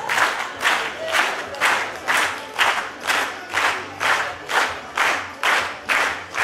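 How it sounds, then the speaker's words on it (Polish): Audience applause at a Great Orchestra of Christmas Charity finale concert in Strzelce Opolskie, loud rhythmic clapping in unison, about two claps per second, steady and close, with no talking over it. "Nie wstrzymujemy oklasków, bo się gorące należą tym państwa"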